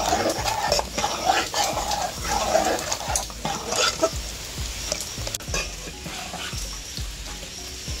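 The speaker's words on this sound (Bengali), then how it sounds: "এবারে খুব ভালো করে আমটা দুধের সাথে খুব ভালো করে মিশিয়ে নেব।" Mango stirred into milk for Bengali mango mishti doi, a spoon scraping and clinking against the pot in a steady rhythm, close and fairly loud, with a brief dog bark in the background.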